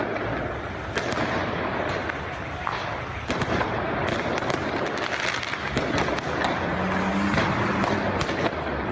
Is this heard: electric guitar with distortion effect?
no